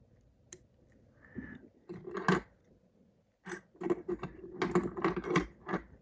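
Quiet, crisp snipping of scissors trimming feather barbs while tying a Griffiths Gnat fly, in short bursts, a few isolated cuts followed by a denser run of rapid clicks, close up with no talking.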